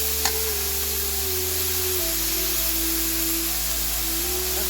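Bay leaf sizzling in hot oil while cooking a Bengali radish and puti fish curry, a steady, close frying hiss that holds evenly throughout with no talking.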